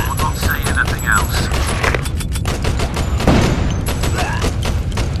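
Rapid bursts of gunfire crackle in a shooting video game, dense repeated shots with booming hits and mechanical clatter piling up over a few seconds.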